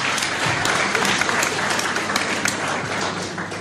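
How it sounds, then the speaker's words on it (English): Audience at a public independence referendum debate in Irvine, Scotland applauds a panellist's introduction, loud, dense, continuous clapping filling the hall with a faint crowd murmur beneath. "Give him a big round of applause."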